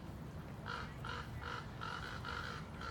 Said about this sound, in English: And the Raven is screaming it.